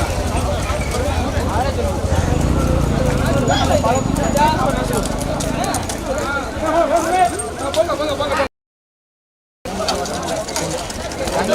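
Bulls pulling carts in a bullock cart race thunder past with rapid, rhythmic hoofbeats under loud live commentary and crowd noise, and the sound cuts out briefly near the end.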